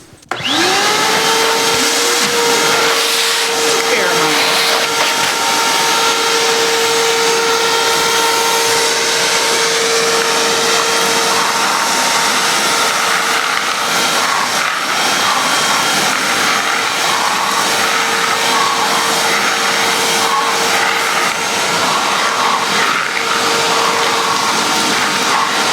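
A Bauer 6-gallon wet/dry shop vacuum fitted with a Gulper nozzle starts up and runs loud and steady, a continuous motor whine with a high tonal hum holding for the whole stretch, with no talking.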